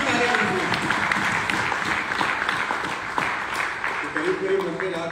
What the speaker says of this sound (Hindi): ये वेस्टिज की तालियां होनी चाहिए।